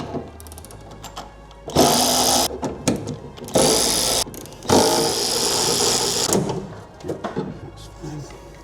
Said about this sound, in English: we're going to take our 8mm socket to remove the wiper motor